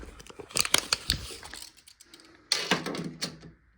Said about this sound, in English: Let me get my trusty tape measure.